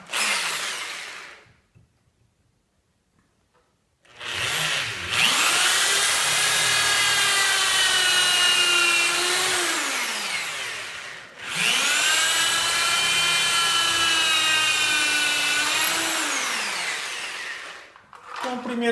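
A power drill bores into MDF board in two long, loud sustained runs separated by a brief pause, the motor pitch sagging and rising as the bit bites, with short gaps at start and end.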